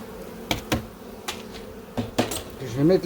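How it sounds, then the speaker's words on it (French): A honeybee swarm in a garden, with a low buzzing hum that swells near the end and a few sharp clicks and knocks scattered throughout. "Regardez le bel essaim."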